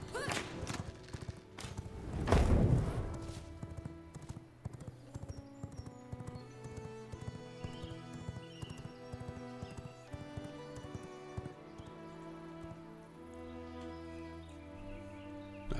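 Galloping hooves and a horse whinny in the V Rising PC game, the clip-clop steady and close throughout, with a thud near the start and game music and ambience running underneath.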